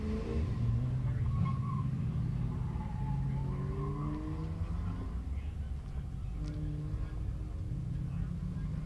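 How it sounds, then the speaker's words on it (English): A BMW autocross car running on a track during a Summit Racing autocross event, its engine rumbling and revving with tire noise, heard at a distance under a public-address announcer's talk. "No, ladies and gentlemen, this is a BMW."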